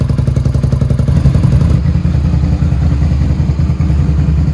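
A motorcycle engine runs steadily up close, loud and rough, after its front cylinder was cleared of oil; a thumping, uneven idle continues throughout with no talk.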